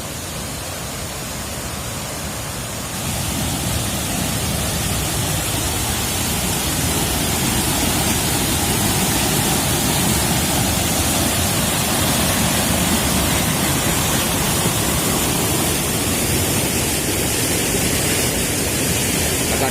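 Water drawn up from below and discharged in a continuous rushing flow that swells to a loud, steady, broadband roar after a few seconds and holds there, with no voices.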